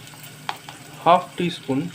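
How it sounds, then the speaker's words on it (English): Fish curry masala sizzles gently in a pan over a slow fire, a faint steady frying hiss beneath a person speaking. "As you can see, it's frying on slow fire."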